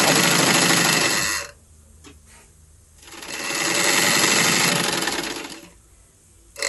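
A sewing machine stitches fabric lengthwise for handmade thread bangles, running in two loud, close bursts of rapid mechanical whirring separated by a quiet pause, with a short start at the end.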